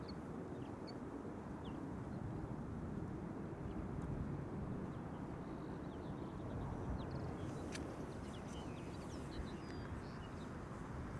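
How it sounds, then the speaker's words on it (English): A Boeing C-17 military transport aircraft passes high and far off near Amsterdam Schiphol, a faint, steady broadband rumble that holds evenly throughout. "That's the C-17, all right."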